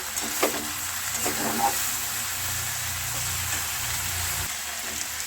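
Bitter gourd curry with sugar being stirred in a pan: a few light utensil scrapes and clinks early on, then a steady frying hiss, heard close.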